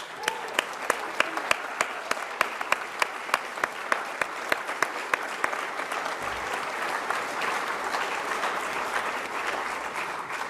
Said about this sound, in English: how about a round of applause for that beautiful planet?